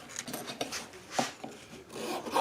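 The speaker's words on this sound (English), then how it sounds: "In this case, it's easier to file them to that depth than it is to cut and chisel." A file rasps notches into wooden soundboard braces, giving short, quiet scraping strokes in an uneven rhythm, close by and with no talking.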